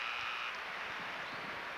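A short electronic end-of-period buzzer sounds at a 1988 NBA game between the Philadelphia 76ers and Dallas Mavericks. It is a steady tone lasting about half a second, cutting over a constant loud arena crowd roar.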